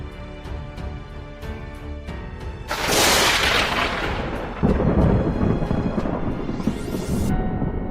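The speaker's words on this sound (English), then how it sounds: "A storm is approaching." Loud thunder from an approaching storm over a natural disaster scene, a sudden crashing roll that swells, then booms again and rumbles on continuously beneath heavy rain and wind.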